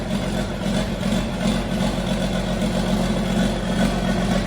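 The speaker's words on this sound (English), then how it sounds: "So we started her up, ran her for a little bit." Mixer tractor engine idling shortly after being started; a steady, low, rumbling idle runs close and continuous without talk.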